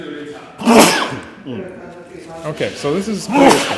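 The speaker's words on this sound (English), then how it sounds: "Are you okay? Bless you." A sharp sneeze bursts out near the start, set among people chatting during live commentary on a Go game at a world amateur championship. Talk resumes right after it.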